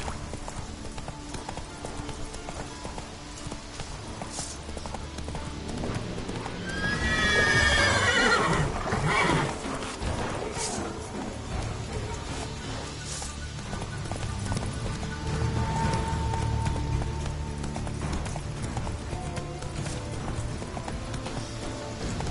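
Roach, a horse in The Witcher 3, gallops with steady rapid hoofbeats and gives a loud whinny partway through, over a continuous game ambience with faint background sound.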